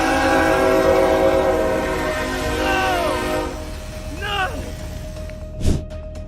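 A train rumbles steadily nearby as it approaches a level crossing, with sustained horn tones and wavering bell-like chimes, then a sharp burst near the end.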